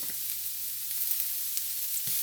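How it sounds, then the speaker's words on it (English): Steady hiss of onions sizzling in a hot pan, a constant bright crackle with a low hum underneath and a brief clunk near the end. "Get our onions on in there and start frying."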